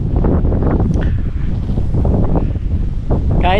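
Strong wind at Caliraya Lake, Lumban, Laguna buffets the microphone in a constant, loud low rumble, with a brief higher whistling gust near the end.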